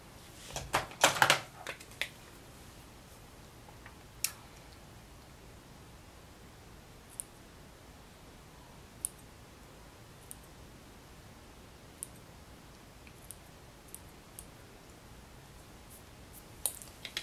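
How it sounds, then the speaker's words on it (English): Small scissors snip the hair ends of an eyebrow in sparse, crisp clicks spaced a second or two apart after a quick cluster of handling noises, close up with no talking. "take your scissors and snip away at the ends here"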